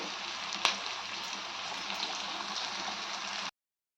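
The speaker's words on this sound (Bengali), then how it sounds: "পেঁয়াজটা লাল লালভাবে ভাজা হয়ে যাবে" A steady, even sizzle of onion frying in hot oil, close by, with a single faint clink near the start before it cuts off.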